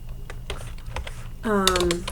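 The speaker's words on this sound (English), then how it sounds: "I am going to type in" Quick, light keystrokes on a computer keyboard while typing into a web browser, a short burst of close clicks followed by a voice starting to speak.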